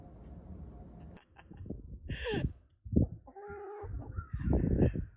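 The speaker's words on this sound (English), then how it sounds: "Today I am here with Betty, one of my hens, one of my old hens" An old hen gives a few short, low clucks and soft throaty calls up close, with brief pauses between the sounds.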